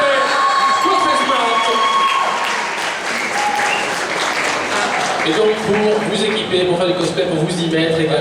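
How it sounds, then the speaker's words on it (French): Dense, steady applause and cheering from an audience at a cosplay roleplay contest at Kamopolis 2026, saluting a sponsor; loud, continuous clapping with shouts and voices mixed throughout. "On applaudit bien fort notre partenaire, s'il vous plaît."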